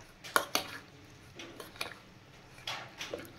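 Lentils are stirred into a batter for Bombay duck fish pakoras, giving a few soft, scattered clicks and scrapes of a utensil against a bowl, quiet and unhurried, with no talking.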